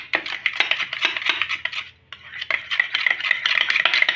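A spoon whisks yogurt (curd) in a bowl in quick, scraping, clinking strokes, a steady beat with a brief pause midway, close up.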